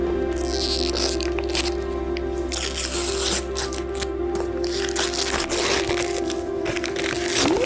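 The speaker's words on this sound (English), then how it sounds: "The biggest box, you can unwrap it now." A large gift box is unwrapped at a Kenyan wedding, with continuous paper crinkling, tearing and rustling up close over a steady hum of music and room noise for several seconds.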